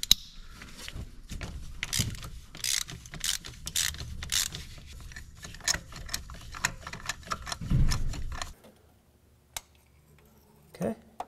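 Socket wrench turning on a 9/16 spark plug socket to break a spark plug loose on a 2004-2008 Ford F-150 engine, with a quick run of close ratcheting clicks and clanks, then a heavy creak and a few scattered metallic taps afterward.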